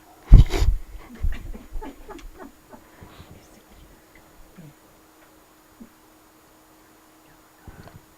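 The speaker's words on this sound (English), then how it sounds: "There's the dog, scratching me." A dog scratching and panting close by, a burst of scuffling and rustling at first that thins into scattered soft scratches and breaths, then goes quiet with a last brief rustle near the end.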